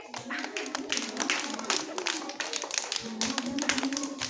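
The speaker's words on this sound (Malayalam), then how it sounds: "3 ഒരു ക്ലാപ്പ് കൊടുത്തേ." Schoolchildren clap for a classmate during a classroom number game: a dense run of quick, overlapping claps lasting several seconds, near and steady, with a teacher's voice speaking over them.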